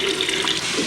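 Water pours steadily into a traditional Lenape water drum in a brief, close, continuous splashing rush at moderate loudness, with no talk over it.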